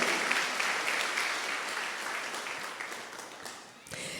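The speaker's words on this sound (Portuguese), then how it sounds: "Uma salva de palmas para a nossa igreja." Church congregation applauding during a worship service on baptism in the Holy Spirit, a sustained, even roar of many hands clapping that holds steady and dips just before the end.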